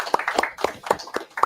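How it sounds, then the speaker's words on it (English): A small group claps in quick, uneven bursts at close range, roughly four or five claps a second, with voices mixed in. "Clap it up. Clap it up."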